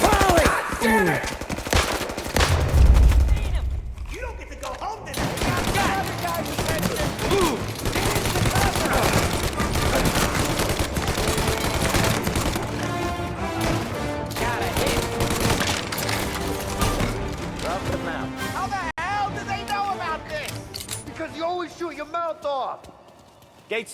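Bursts of gunfire and chaotic battle noise fill a shootout in the video game Mafia: Definitive Edition, mixed with loud music and shouted voices throughout, with dense overlapping action that quiets near the end.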